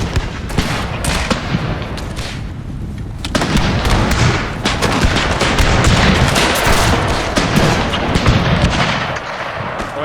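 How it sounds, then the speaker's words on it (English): Massed musket fire from troops in a Thirty Years' War battle in Total War, a dense, continuous crackle of overlapping shots and booms, loud and close, with no pause throughout. "troops further in the back start firing."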